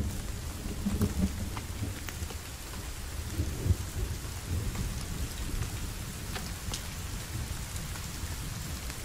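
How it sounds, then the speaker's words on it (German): Steady rain falls with a dull low rumble of thunder rolling underneath in the video game The Forest, a constant wash of noise with a few brighter drip ticks and no talking. "Es regnet."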